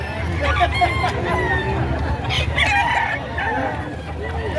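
Roosters crow among clucking chickens in a busy outdoor poultry market in Padre Garcia, Batangas, Philippines, with a steady crowd murmur underneath.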